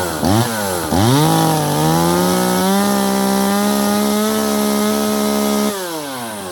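A Jonsered 525 chainsaw with an Oregon Versa Cut bar revs up loud and close, holding a steady high whine for several seconds before dropping back toward idle.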